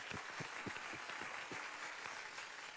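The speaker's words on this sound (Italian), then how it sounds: "Applausi, grazie." An audience at an Italian show gives faint, distant applause, with a steady patter of clapping and a few soft thumps throughout.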